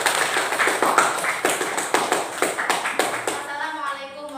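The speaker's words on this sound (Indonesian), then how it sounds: "Kita berikan tepuk tangan dulu." A classroom of students claps hands together in a quick, rhythmic pattern of distinct sharp claps, fairly close, before voices take over at the end.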